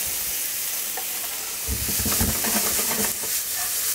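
Onion sizzling in sesame oil over turned-down heat, a steady close frying hiss with stirring scrapes and crackles growing busier partway through.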